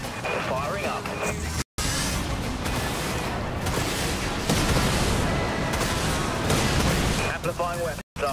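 Ship weapons firing in the video game Dreadnought, with bursts of explosive blasts and gunfire rolling continuously alongside game voice callouts and brief dropouts.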